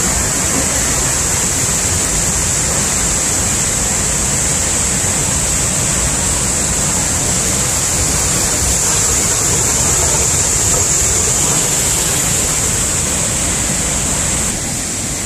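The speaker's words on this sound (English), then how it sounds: "Here's that great waterfall." A large waterfall roars in a steady, loud, unbroken rush of broadband water noise that stays constant throughout with no voices.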